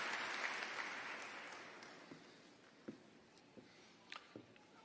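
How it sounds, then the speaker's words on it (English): Applause from a commencement audience for the speaker, Dr. Kristen Brody, at a JSU 2021 graduation ceremony, starting as a broad wash of clapping that fades over a few seconds into scattered, isolated claps and small sounds. "Let's please have another round of applause for our speaker, Dr. Kristen Brody"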